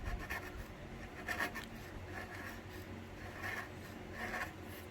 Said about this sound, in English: Then just use half of a chisel. Push the other side. Push the area that you want to remove.